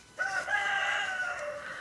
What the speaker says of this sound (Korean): 아우, 저놈의 닭은 시들 때도 없이 우니.